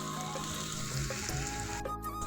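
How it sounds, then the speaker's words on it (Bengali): Sliced onions frying in ghee in a karahi to make crisp birista for biryani, a soft, steady sizzle heard close but fairly quiet, with a faint low hum underneath. "আমি পেঁয়াজ বেরেস্তাটা ঘি দিয়েই করে নিই।"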